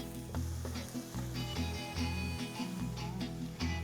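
Garlic sautéing with oregano, cumin and chili powder for venison chili, a loud steady sizzle in a hot pan broken by rhythmic stirring scrapes of a spatula, no talking.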